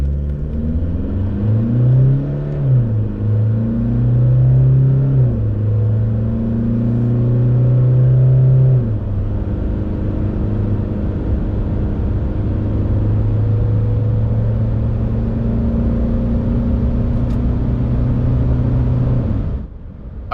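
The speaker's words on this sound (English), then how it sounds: "it's now time to test 0 to 100 unladen" A 2024 Toyota HiLux hybrid accelerates hard from standstill to 100 km/h, a close, loud engine drone climbing in pitch through several gear changes before holding steady and cutting off at the end.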